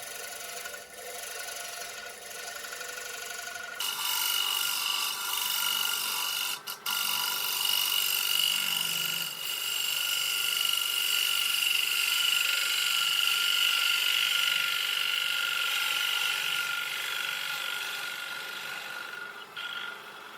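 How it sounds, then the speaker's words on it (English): A bowl gouge cuts a flat surface on the bottom of a wooden dinner plate spinning on a lathe, a steady, close, loud rasping scrape that starts abruptly a few seconds in and continues with no talk. "these bottoming bowl gouges work fairly well when you're cutting flat surfaces like this on the bottom of a bowl"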